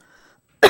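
A single sharp cough bursts out after a moment of near silence, loud and close.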